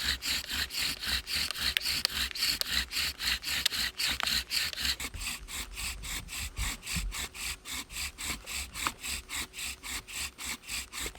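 A hand bow drill spins a wooden spindle against wood, making a rhythmic back-and-forth rasping. The strokes are quicker and denser at first, then fall into a steady, evenly spaced cadence, close by with no talking.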